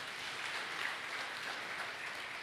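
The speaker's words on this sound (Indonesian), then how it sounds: "Tepuk tangan buat Tuhan Yesus" A church congregation claps together in a steady, dense wash of applause that holds evenly throughout, moderately soft, with no talking.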